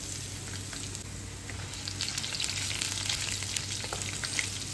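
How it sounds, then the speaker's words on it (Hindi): Garlic browning in hot oil with whole red chilies and shahi jeera, cooking for a matar paneer masala, gives a steady, close crackling sizzle with faint pops and stirring, no voices. "लहसुन को हल्का सा ब्राउन करेंगे"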